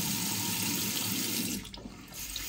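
Tap water running at reduced flow over a wristwatch's bracelet while rinsing it after a day at the beach, a steady close splashing hiss that dips and shifts briefly near the end, with no talking.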